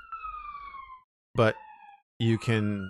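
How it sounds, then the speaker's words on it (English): Emergency vehicle siren passing by, a loud wailing tone sweeping downward, then cut into rising and falling bursts as someone talks over it. "Sorry about the siren going by."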